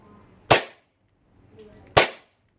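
Two sharp gas-powered BB gun shots about a second and a half apart, each a loud close crack with a short tail, with a faint click in between.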